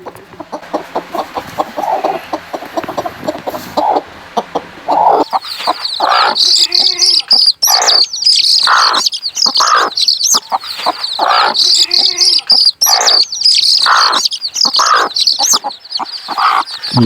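Young chicken chicks peep in a steady stream of high, rapid chirps, close by and fairly loud, with lower hen-like clucks mixed in throughout.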